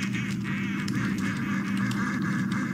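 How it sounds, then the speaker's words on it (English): Loud, continuous duck quacking from a video game plays close up, a dense chorus of nasal quacks with no talking over it. "All I hear is duck sounds."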